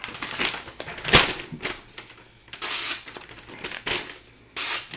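A Midgards-Messer titanium folding knife with milled, textured titanium slices through a sheet of paper, giving a few crisp, close rasping cuts with short pauses between them, heard alone.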